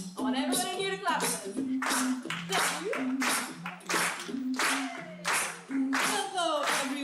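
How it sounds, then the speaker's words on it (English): An audience at an arts and humanities awards ceremony claps in uneven bursts, with a voice and music-like tones running alongside the applause throughout. "And I want everybody here to clap."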